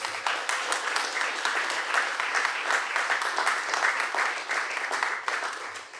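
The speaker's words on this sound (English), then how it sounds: "Let's give them a round of applause." A crowd at a mayoral event for growth legislation and fund awardees gives sustained applause, a dense, even roar of clapping holding steady for about six seconds with no voices over it.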